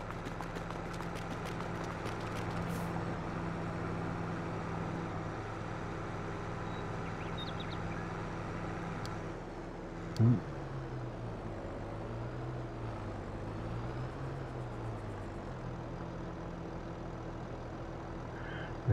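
Tractor engine in a farming video game, a steady low droning hum that runs the whole time at moderate level, with one brief knock partway through and a wavering pitch afterward.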